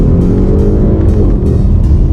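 An Audi RS6 Avant's engine pulls hard with a dense, loud low-pitched roar and steady harmonic drone, heard close and continuously through the short burst with no talk.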